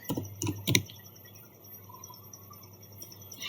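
A few quick keystrokes on a computer keyboard while entering a router command, then quiet room tone; the clicks are close and crisp, in a short cluster near the start.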